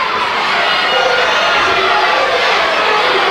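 A large crowd at a live wrestling event roars steadily, a loud, continuous wash of cheering and shouting with no break.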